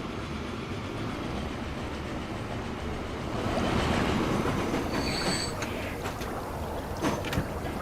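A train pulling into a station in Transport Fever 2, a steady rolling rumble of wagons that swells midway, with faint wheel squeal and metallic clacks near the end.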